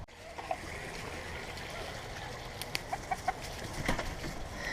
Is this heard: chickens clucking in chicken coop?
yes